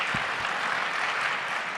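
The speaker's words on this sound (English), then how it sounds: "So really, just a huge round of applause," Audience applause at an APTE Summit 2017 conference, a dense wash of many hands clapping steadily for the organizers throughout, with no speech over it.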